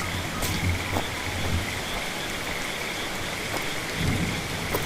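Steady rain falls on a forest path with thunder rumbling low in the distance, an unbroken wet hiss that fills the scene with no voices.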